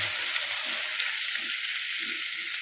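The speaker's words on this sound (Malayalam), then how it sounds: "ഇനി നമുക്കൊരു തക്കാളി വലിയ തക്കാളിയാണ് കൊടുക്കുന്നത് ചെറുതായിട്ട് അരിഞ്ഞിട്ട് കൊടുക്കുന്നത്" Chopped tomato and onion frying together in a pan for an egg theeyal curry, giving a steady, close sizzle throughout with faint low stirring knocks underneath and no talking.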